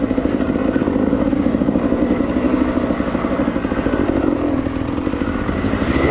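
A dirt bike engine revs and throttles steadily on a singletrack trail, a loud, close, continuous mid-pitched drone with rattling clatter throughout, no talking over it.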